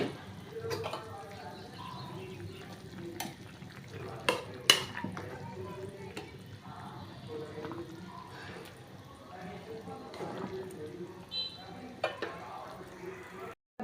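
Fish being added to a simmering tomato curry and stirred, giving soft bubbling and a low sizzle with occasional clinks of a utensil against the pot, while a voice talks over it in places.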